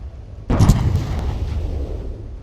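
A warship's cannons fire in the Roblox naval battle game Warships, opening with a sudden loud booming salvo and settling into a rumbling, sustained roar of gunfire.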